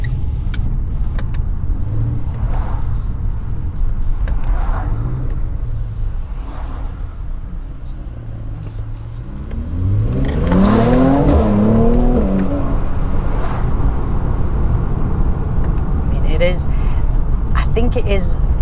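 A facelifted Mercedes C43 AMG engine accelerates while driving, heard from inside the cabin, with a steady engine drone that rises and swells midway. Someone talks over it throughout.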